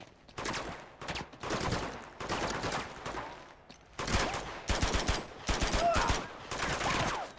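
Rapid gunfire from a shootout in the video game Uncharted 2, with dense bursts of automatic and single shots that are loud and continuous, broken by brief pauses.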